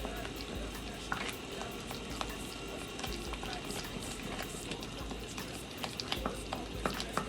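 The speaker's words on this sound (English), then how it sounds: "Keep stirring" Peppers are stirred into a simmering fish stew in a pot, with steady scraping, clinking and bubbling that sound busy but soft throughout, without any clear speech.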